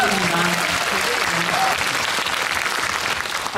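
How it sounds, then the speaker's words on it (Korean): Indoor cinema audience at a Seoul film live talk event clapping, a dense steady burst of applause that tapers slightly toward the end. "큰 박수 부탁드립니다"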